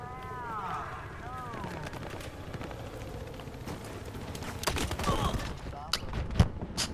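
Gunfire in Battlefield Hardline multiplayer, with scattered shots and sharp bangs growing busier toward the end amid a noisy battlefield backdrop, while a player talks throughout.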